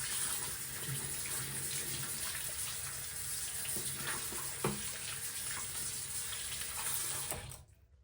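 Tap water runs steadily close by as a product-coated paddle brush is rinsed under it, a continuous splashing hiss that cuts off abruptly at the end.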